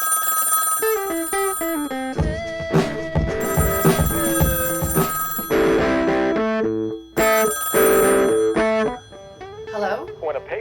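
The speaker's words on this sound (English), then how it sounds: "When a payphone rings, you have to answer it." A payphone rings loudly in repeated bell-like bursts with short gaps between them, close to the listener.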